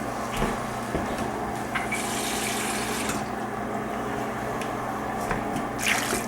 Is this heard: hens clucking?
no